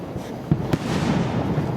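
A family bursts firecrackers for Diwali a short way off, sending a couple of sharp cracks and pops over a steady outdoor hum. The bangs are moderately loud and slightly distant, with no speech.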